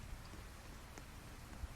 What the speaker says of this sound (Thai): ก็ตอนนี้นะครับฝนตก